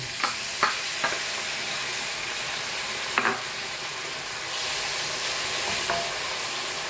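Chicken pieces frying in a pan for pansit, a steady close sizzle with a few sharp scraping stirs of a utensil against the pan, no talking.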